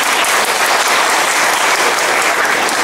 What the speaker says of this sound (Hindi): फिर जोरदार तालियों के साथ स्वागत अभिनंदन सरकार के आदमी के